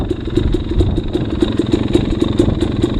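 A dirt bike engine idles close and loud with its choke off at a muddy hare scramble, giving a steady, even putter with regular rhythmic ticking throughout, and nobody talks.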